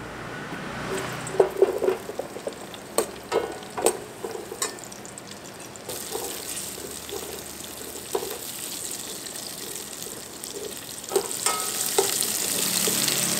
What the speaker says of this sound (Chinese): 接下来我们要来爆香